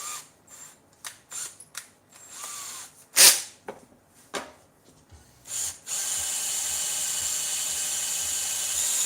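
A drill bites into wood in short, intermittent bursts with squeaks and clicks, then a steady high whir runs continuously for the last few seconds; close and fairly quiet, no talking.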